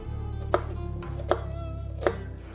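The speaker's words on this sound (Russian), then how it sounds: "Лук можно нарезать и обычными полукольцами. Сегодня я нарезаю кубиками" A knife cutting onion into small cubes on a board, three distinct chopping knocks evenly spaced about every three quarters of a second over a low steady hum, close and fairly quiet.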